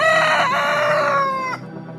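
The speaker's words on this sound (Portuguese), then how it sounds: "Imediatamente o galo cantou pela segunda vez." Single rooster crowing close and loud, a long drawn-out cock-a-doodle-doo with a rising then falling tone lasting about a second and a half before cutting off to quiet, used as an audio Bible sound effect.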